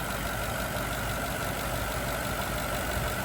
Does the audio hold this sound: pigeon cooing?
no